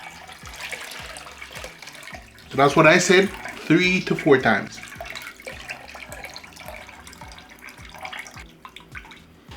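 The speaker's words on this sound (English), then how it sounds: "I'm going to drain this water now." Water from washed rice is poured off into a sink, a loud splashing gush lasting about two seconds, with a voice talking before and after.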